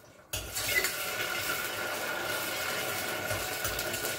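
After a brief pause, ginger garlic paste is stirred in melted ghee in a pan, with a steady soft sizzle and frequent scraping, clinking utensil contacts against the metal close by.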